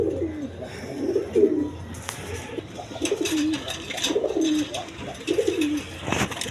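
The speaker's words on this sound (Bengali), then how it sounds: "ইন্ডিয়ান লোটন কবুতর" Indian Lotan pigeons coo close by in repeated low, rolling phrases with short pauses between them, along with a few light rustles and knocks.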